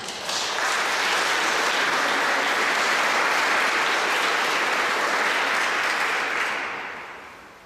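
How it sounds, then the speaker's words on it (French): A hall audience at a Protestant and Muslim interfaith gathering breaks into loud, sustained applause that holds steady for several seconds before tapering off at the end. "qu'on applaudit bien fort."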